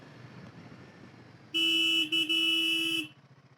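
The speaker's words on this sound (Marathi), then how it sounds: "अरे मी हॉर्न मारतोय, पण समोरून तरी हॉर्न आला पाहिजे" A Royal Enfield Himalayan 450 motorcycle's horn sounds on a rainy monsoon ghat road: one loud, close, steady honk of about a second and a half, briefly broken midway, over faint background road noise.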